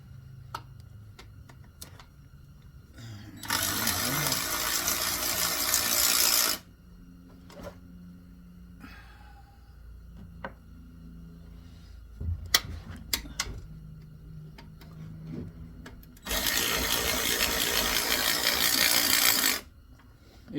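A ratchet loosening oil pan bolts under a car, two long bursts of fast clicking ratcheting with quieter knocks, taps and handling noises between them, no speech.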